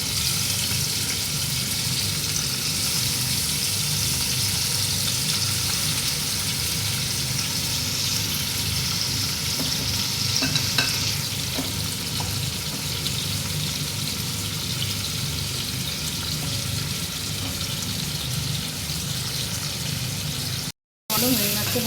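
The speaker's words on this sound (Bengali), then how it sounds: "আর এর মধ্যে 2-4টে চিংড়ি মাছ আমি দিয়ে দেবো" Two to four prawns frying in olive oil in a pan, a continuous crackling sizzle with occasional utensil clicks, steady and close throughout.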